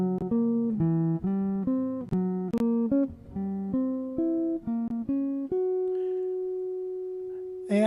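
Guitar polychords, two chords combined at once, played as triplets: a steady run of bright, clean chord stabs changing pitch in a rolling pattern, ending on a long sustained ringing chord.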